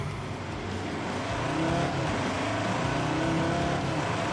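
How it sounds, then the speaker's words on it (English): Pickup truck with a 3.2-litre five-cylinder engine racing off-road through Wales in The Grand Tour game, a steady loud engine drone with rumbling tyres and rising revs, no talk. "I am racing a pickup truck off-road in Wales to refuel a helicopter"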